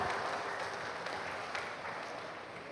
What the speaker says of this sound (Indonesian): kita berikan tepuk tangan paling meriah untuk kita